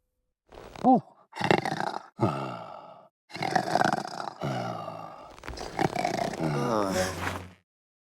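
A voice imitates a sleeping sheep's snoring with a series of drawn-out, rumbling groans and snorts, each long noisy breath separated by short pauses, close and clear.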